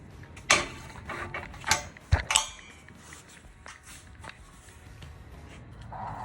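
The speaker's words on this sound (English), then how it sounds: "latching and unlatching just how it should" Metal latch and handle on a homemade swing-out spare tire carrier being latched and unlatched, a few sharp clanks and clicks spaced irregularly, close and fairly loud, then quieter faint rattles.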